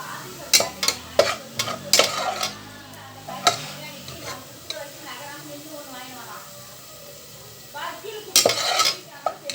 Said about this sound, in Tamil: இப்போ இந்த வெங்காயம் நல்லா வதங்கிருச்சு இதை வந்து நாம் எடுத்துடலாம்